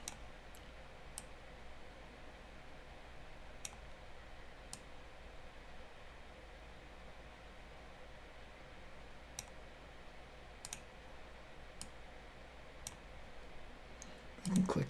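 Faint, sparse computer mouse clicks come at irregular intervals over quiet room tone while someone works in Blender 3.4, with a brief louder bump at the very end.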